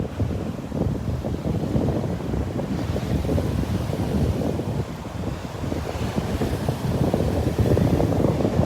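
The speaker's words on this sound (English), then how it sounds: "Even with all the waves." Ocean surf rolls onto a beach in North Naples, Florida, a continuous loud wash of breaking waves mixed with gusty wind buffeting the microphone, with no voices.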